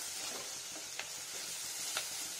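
Tomatoes and roasted spices frying in a pan, making a soft steady hiss of sizzling with two brief sharper stirring clicks, fairly quiet.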